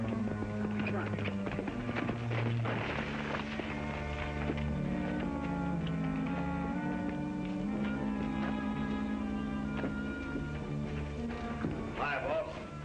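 Horse hooves clip-clop in a steady rhythm as a rider heads off ahead of a cattle drive toward Hidden Valley, under a continuous bed of music.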